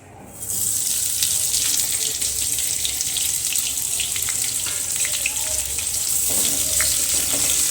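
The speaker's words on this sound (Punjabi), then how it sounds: "ਪਿਆਜ਼ਾਂ ਨੂੰ ਭੁੰਨ ਲਵਾਂਗੇ" Long-sliced onions fry for jackfruit curry, giving a loud, steady sizzle close by. The hiss runs continuously for several seconds with faint crackles.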